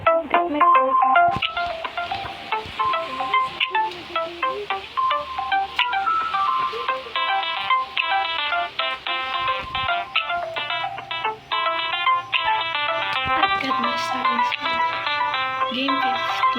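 A bright, cheerful electronic jingle plays continuously as a phone ringtone in the video game High School Story, loud repeating melodic notes with no voices.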